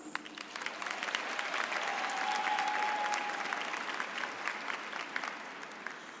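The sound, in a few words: applause for Spelman College Board of Trustees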